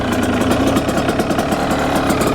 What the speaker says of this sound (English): Step 1, start and warm up the bike.